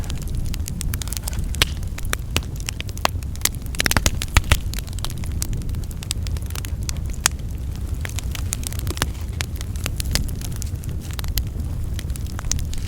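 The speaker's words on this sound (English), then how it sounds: "It's a tangly old fire." Campfire of old, tangly Tuckermore wood burning outdoors at a solo camp, a continuous low roar with dense sharp crackles and snaps throughout, close and fairly loud.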